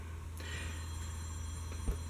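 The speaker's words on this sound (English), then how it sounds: "Hope you don't hear my phone in the background." A telephone bell rings faintly in the background, a thin steady tone sitting behind a constant low hum with no voices.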